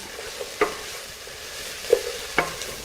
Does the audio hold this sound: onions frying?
yes